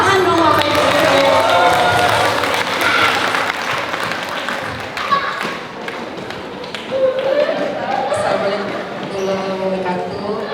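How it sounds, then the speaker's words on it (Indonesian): Audience claps for teachers at a Teachers' Day celebration, steady applause with cheers and voices mixed in throughout. "Tepuk tangan dong Bapak Ibu Guru."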